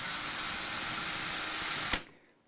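A power drill whines steadily and loudly at close range while boring pilot holes for grub screws during a vintage Stratocaster setup, then stops abruptly and spins down to near silence.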